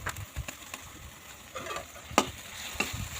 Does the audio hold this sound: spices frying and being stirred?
yes